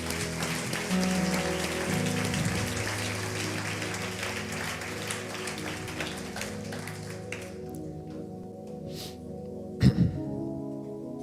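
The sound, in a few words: congregation applauding in church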